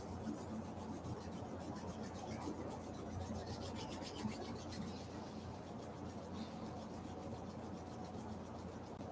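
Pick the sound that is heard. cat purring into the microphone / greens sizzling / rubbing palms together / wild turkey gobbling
rubbing palms together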